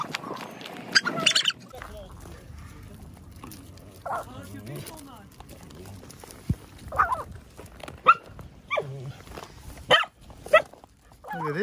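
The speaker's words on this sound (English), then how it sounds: "Little golden retrievers." Golden retrievers, a mother and her puppies, give scattered barks and yips, some close and sharp, with people talking in between.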